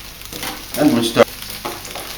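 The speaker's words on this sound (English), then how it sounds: "stir frying the veg." Vegetables stir fried in hot oil for chicken chow mein, a steady sizzle with a couple of louder bursts of tossing and scraping in the pan, close and without talk.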